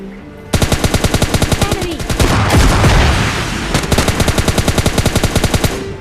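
In a video game, an S12K shotgun, an RPG and an AWM sniper rifle fire in close range: rapid, evenly spaced loud bursts, interrupted by a heavy booming blast and rumble, then the rapid fire resumes.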